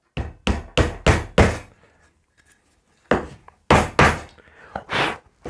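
A series of sharp wooden knocks and thumps as a dowel is pushed into a drilled hole, in two bursts of several quick taps each, close by and fairly loud, with a quiet pause between.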